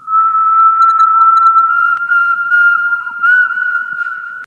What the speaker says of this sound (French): Le sifflement reprend.